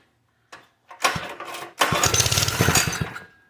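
A small engine on a homemade DooDoo Bug cart sputters, catches with a few coughs, then runs loudly and steadily up close before cutting off abruptly.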